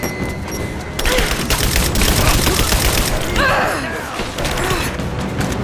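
A grenade explosion and bursts of gunfire in the action game Rise of the Tomb Raider: a loud blast starts a sustained crackle of rapid shots and impacts, with shouting voices mixed into the chaotic fight.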